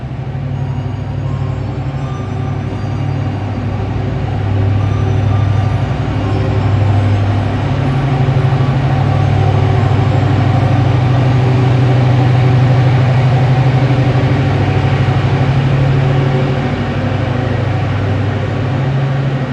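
A passenger train rolls into track 3 at a station platform in Indonesia, a steady loud rumble of engine and wheels that swells slightly midway and carries on throughout with no talk.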